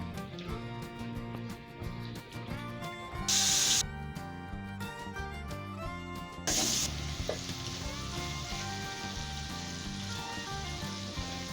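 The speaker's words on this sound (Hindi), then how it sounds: "ये प्याज हमें इतनी ही सोते करनी है" Onions sautéing in a pan until light golden, a steady close sizzle with two brief louder hissing bursts as the pan is stirred, heard without talking.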